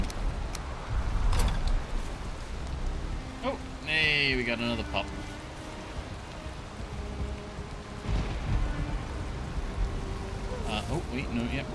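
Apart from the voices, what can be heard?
rain in a video game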